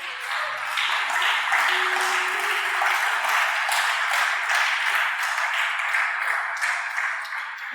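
Applause from a church congregation during a sermon, a steady broadband patter of many hands clapping continuously and fairly loud throughout, filling the room.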